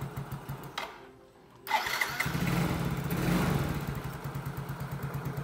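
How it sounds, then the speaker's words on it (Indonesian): A motorcycle engine with a replaced piston and pin cranks, then fires right up and settles into a steady, close, rumbling idle. "Sekarang kita tes hidupkan. Oke, langsung nyala ya."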